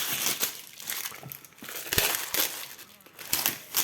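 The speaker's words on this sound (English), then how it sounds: "And you can see it is still wrapped in the foil. So I'm going to unwrap this now." Foil wrapping being peeled and crinkled off a board game box, close and fairly quiet, with irregular rustles and a few sharper crackles.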